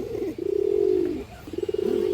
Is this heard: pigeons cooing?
yes